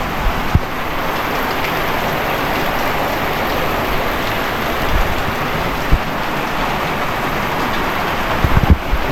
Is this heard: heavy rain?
yes